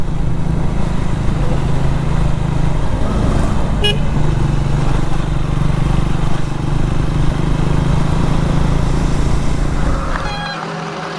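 A 100cc motorcycle engine runs steadily while riding through town, a constant close drone with a brief horn toot partway through, then the engine eases off near the end.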